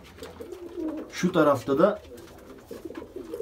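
Tumbler pigeons in a loft give a deep, throaty cooing burst, close and fairly loud, with someone speaking quietly before and after it.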